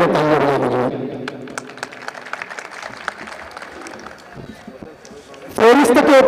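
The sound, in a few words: audience applauding the mushaira committee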